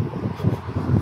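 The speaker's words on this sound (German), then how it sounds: "Ja, jetzt haben wir Schnaufen und Wind." Steady wind noise buffets the microphone with heavy, rhythmic breathing underneath, close and fairly loud throughout.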